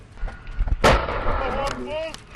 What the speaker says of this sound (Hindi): विस्फोटक लगाकर जैसे ही वो भागता है, धमाके की आवाज होती है।